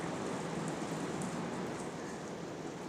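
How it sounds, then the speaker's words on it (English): Steady rain falls outside during a very wet, stormy day, making a continuous, even hiss heard from indoors with no distinct drops standing out and no one speaking. "and it's raining out. I don't know how about the noise in here"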